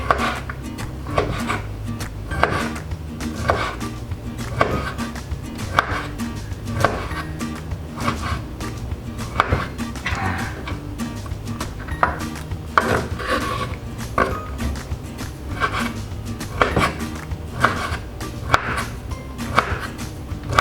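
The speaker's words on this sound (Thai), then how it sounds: "เวลาผมหั่นกุนเชียงผมชอบทำเฉียงๆเนาะ" Steady rhythmic knife chops slicing Chinese sausage on a cutting board, close and crisp, repeating one after another with no talking.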